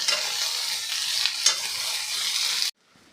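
Thinly sliced onions fry in a pan as they are stirred, giving a loud continuous sizzle with scraping accents, which cuts off abruptly near the end, leaving near silence.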